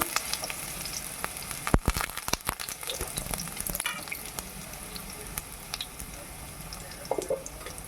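Small diced potatoes fry in oil with a soft, steady sizzle, broken by occasional sharp clicks and scrapes of a utensil stirring them in the pan.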